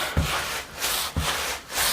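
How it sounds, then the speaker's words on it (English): Soapy scrubbing on a part being cleaned up for resale, heard as steady back-and-forth rubbing strokes with a sharper scrape at the start of each pass, close and moderately loud, with no voices. "And just keep scrubbing at the"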